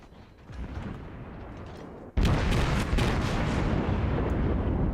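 Warship guns fire in a naval battle video game, a booming roar that swells, then bursts much louder midway and keeps rumbling with repeated heavy thumps, no voices over it.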